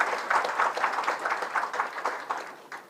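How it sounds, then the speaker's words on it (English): An audience claps together in steady, moderately loud applause that carries on throughout without pause. "Clap for this."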